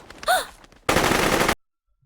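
Machine gun fire in a hail of bullets in the anime Full Metal Panic, a loud continuous burst of rapid shots lasting under a second that cuts off abruptly into silence, preceded by a brief vocal cry.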